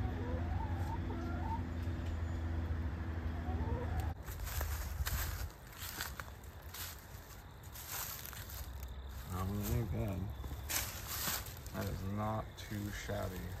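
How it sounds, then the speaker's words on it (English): A chicken clucks and coos close by in short bursts across the stretch, with a person talking over it and outdoor background noise throughout. "What a beautiful chicken."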